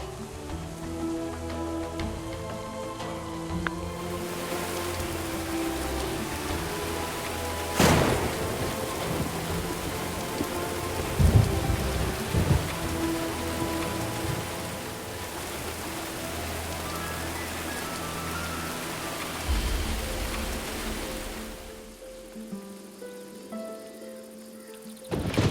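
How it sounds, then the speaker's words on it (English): Steady rain patters throughout a stormy scene in the medieval colony-building game Going Medieval, broken by a sharp thunder crack and several heavier rumbling booms before the storm fades into near quiet. "We take the thunder as a sign that the gods are pleased with the work that we've been doing"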